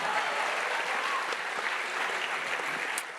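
An audience at a panel discussion event gives a short burst of steady, fairly faint applause that tapers off at the end.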